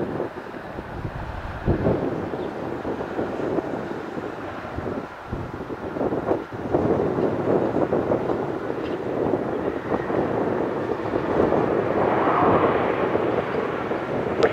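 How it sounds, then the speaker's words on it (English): A heavy Boeing 777 jet descends to land at Detroit Metro airport, its broad low roar steady and loud throughout, mixed with gusty wind rumble against the microphone. "Heavy Boeing 777 descending into Metro."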